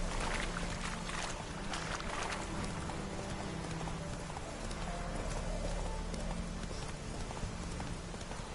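Horse hooves clip-clopping at a steady riding pace in The Witcher III, under a dense bed of outdoor ambience and flowing water, continuous at a moderate level throughout.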